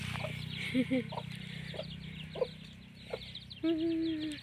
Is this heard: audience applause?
no